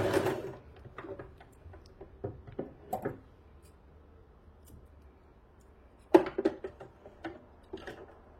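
A sewing machine stitches a straight seam while joining bias binding strips, heard as short bursts of quiet, close clicking stitches separated by lulls, with a stronger run near the end.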